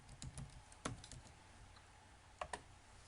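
Quiet keystrokes on a computer keyboard while entering a password, a handful of soft, irregular taps in a short burst at close range.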